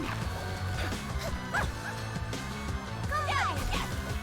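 A cartoon dog character in the fighting game Them's Fightin' Herds barks and yips several times, sharp and close, over busy game music and effects, with a voice talking underneath.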